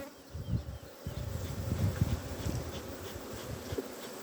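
A dense, steady drone of honeybees at an open beehive while queen cells are being given to split colonies, buzzing close and continuous with individual bees swelling past.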